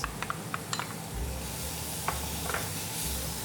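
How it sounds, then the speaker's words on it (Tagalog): Chopped onions hit hot oil in an all-purpose pot, giving a steady hissing sizzle broken by several sharp metallic clinks of a utensil against the pot. "Oil, and I'm going to put my onions."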